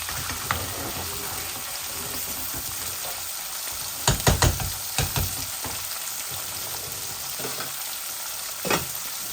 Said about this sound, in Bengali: মাছটার আমি ফ্লেমটা একটু কম করে নিই, আস্তে আস্তে মাছগুলোও হোক।